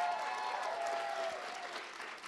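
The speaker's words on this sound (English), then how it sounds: "Can I get a really big round of applause?" Audience applause at the Food and Wine Classic festival in Aspen, a steady wash of clapping from a crowd, moderately loud and sustained, gently fading toward the end with no talk over it.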